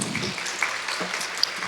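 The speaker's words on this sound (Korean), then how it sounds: "먼저 하나님께 영광의 박수 올려드리겠습니다." A church congregation at Immanuel Seoul Church claps together in a dense, steady patter of applause that sounds moderately distant and fills the room.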